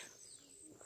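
Birds coo and chirp faintly in the distance around a hill resort in Kulamavu, Idukki, a soft outdoor background with no voices.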